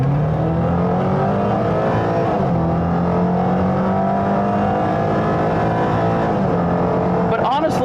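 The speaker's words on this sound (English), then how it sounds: "give you a little bit of an example of acceleration here" A Pontiac Solstice engine drones loudly and climbs in pitch as it accelerates, with steady road roar throughout and a brief squeal at the end.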